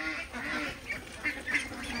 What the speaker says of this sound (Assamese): চাই আছে কিমান ধুনীয়াকৈ হাঁহবিলাকে খাই আছে দানাবিলাক, শুকান দানা ইয়াত আপোনাৰ খাব